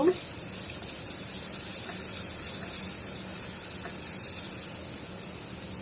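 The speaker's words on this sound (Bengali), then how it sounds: "পেঁয়াজটা একটু ভাজা হোক।" Onion frying with turmeric and salt in a pan gives a soft, even hiss that runs unbroken from start to finish, fairly quiet and close, with no clear speech.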